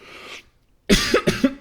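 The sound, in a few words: cough after drinking water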